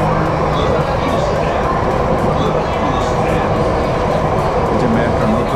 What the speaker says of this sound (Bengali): ইন্দোনেশিয়ার মেট্রোতে আমরা আছি